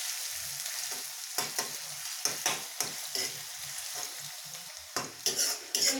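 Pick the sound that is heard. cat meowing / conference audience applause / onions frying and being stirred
onions frying and being stirred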